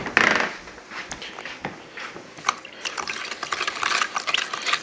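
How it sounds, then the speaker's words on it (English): A fork clinks and scrapes around a bowl of jerky marinade in irregular bursts of stirring, close up with a faint liquid swish and no talking. "you're just going to stir it up until there's no sediment sitting at the bottom"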